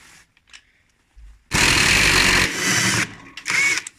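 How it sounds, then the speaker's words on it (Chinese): An electric impact wrench with a 15 mm socket removes a tight nut from a Haier front-loading washing machine during a bearing replacement. It gives a loud, close burst of hammering whir lasting about a second, then two shorter bursts, with no talk. "拿电动扳手轻松就可以卸下来"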